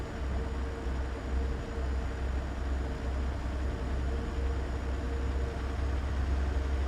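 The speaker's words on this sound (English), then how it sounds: "Love the sound of this truck. Love the sound of this engine." A truck engine in American Truck Simulator drones steadily at a low pitch, a constant heavy rumble at cruising speed with no talk over it.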